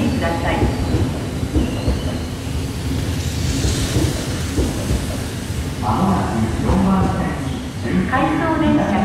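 Out-of-service Tobu Skytree Line train pulling away from Kita-Koshigaya station, a steady heavy rumble of wheels and motors throughout, with a platform announcement voice over it.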